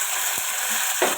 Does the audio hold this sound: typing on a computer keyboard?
no